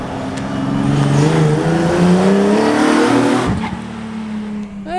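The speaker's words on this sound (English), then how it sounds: "he just needs to give it heaps in first and it'll be fine." A Nissan 370Z with new intakes revs hard in first gear and climbs in pitch, sustained and loud, then suddenly drops off before rising again.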